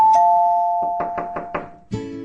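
A doorbell chimes with a sustained two-tone ring, followed by four distinct knocks on a door at a steady rhythm, then another loud chime at the end.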